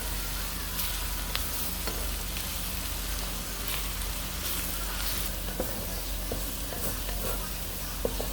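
Garlic frying in oil with butter added for shrimp Salvatore: a dense, continuous sizzle and crackle, close and steady throughout, with small pops and occasional spoon taps.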